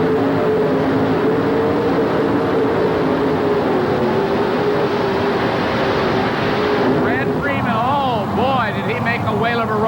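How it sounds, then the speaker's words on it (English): A supercharged modified pulling tractor at a 1988 tractor and truck pull in Birmingham, Alabama, screams at full throttle in one steady, loud, sustained roar, with an announcer talking over it and the pitch wavering near the end. "Those superchargers open up."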